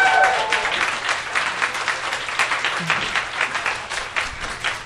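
An audience claps to welcome a psychology PhD guest onto the stage at a live talk event, a brisk, lively burst of many hands clapping close by that carries steadily for about five seconds.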